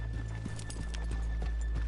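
Horses' hooves clip-clopping in the Red Dead Redemption 2 video game, a soft, regular walking beat of hoof falls under a steady low ambient rumble.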